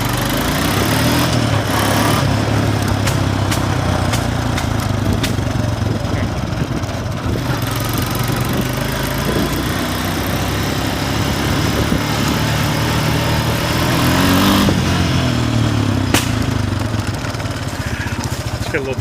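A 2001 Honda Foreman 450 ATV engine on a cold-weather test ride gives a loud, steady buzzing drone that rises and falls gently with throttle, with a voice briefly heard over it.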